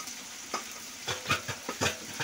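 Tomatoes and ginger paste fry in a pan, giving a quiet sizzle broken by several scraping stirs of a spatula at an uneven pace, close up.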